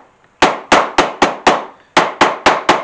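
A hammer strikes leather pieces glued with contact cement while building a rattlesnake holster, nine sharp, close, loud blows in a quick steady rhythm with one short pause partway through, no voices.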